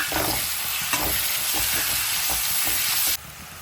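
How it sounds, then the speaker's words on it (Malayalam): Sliced onions frying in a pan for a beef curry make a continuous close sizzle, broken by regular scraping strokes of stirring roughly every half second, before the sound drops away near the end. "അപ്പോൾ ഉള്ളി ഇട്ട് കൊടുക്കുന്നുണ്ട് പെട്ടെന്ന് തന്നെ ഉള്ളി വെന്ത് കിട്ടും"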